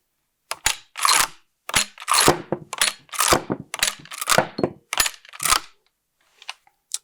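Close mechanical clacks and metallic sliding from a modified Martini-Henry rifle cycling three rimmed cartridges out of its magazine, arriving in several quick clustered bursts before a couple of faint final clicks, with no voices.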